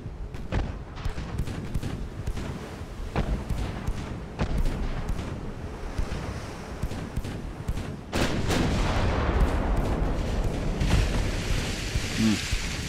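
Heavy naval gunfire in Ultimate Admiral: Dreadnoughts, battleships trading 10-inch shells, with repeated deep booming salvos and shell impacts, irregular and loud throughout, growing denser and more rumbling in the second half.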